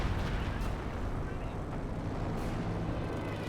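Artillery barrage in a real-time war strategy game, a continuous heavy rumble of distant booms and blasts rolling together, loud and dense from start to finish, with a commentator speaking over it.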